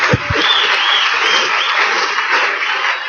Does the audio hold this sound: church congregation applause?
yes